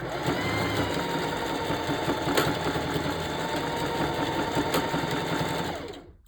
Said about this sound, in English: Don't forget, you have to back stitch.